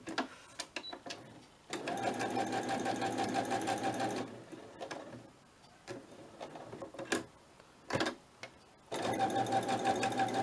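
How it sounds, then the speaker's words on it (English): A sewing machine stitching fabric, running in several bursts of rapid mechanical whirring and ticking, each a few seconds long, separated by pauses with small clicks and handling noises. "I think I will just go straight in and sew this"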